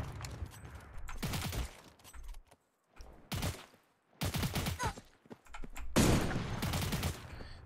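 Gunfire in the PC shooter game Cyber Hunter comes in loud rapid bursts, separated by short silent gaps.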